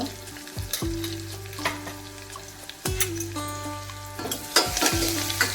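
Hot oil sizzles steadily in a pan while curry leaves, turmeric, asafoetida and fenugreek crackle and pop, with occasional clinks and scraping from stirring, and no one speaking.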